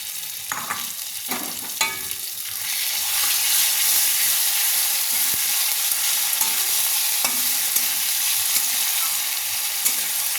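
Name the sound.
marinated prawns frying with onions in pan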